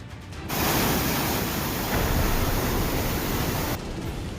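Small streams flowing through green hills in Kutch after good rain, heard as a steady, loud broadband rush of water that swells in and holds evenly, with no voices.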